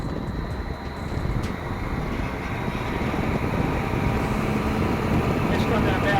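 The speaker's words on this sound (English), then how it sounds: "It's not that bad right now, but I can feel the wind picking up." Hurricane simulator pushing wind at 78 mph, a loud continuous roaring rush that buffets the microphone throughout, with a few faint clicks and no clear speech.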